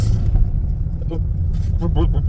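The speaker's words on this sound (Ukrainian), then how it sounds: "Ух, яка четверочка БМВшечка поїхала зелененька" A green BMW 4 Series drives past with a low, steady road rumble that holds through the whole moment, with a voice talking over it.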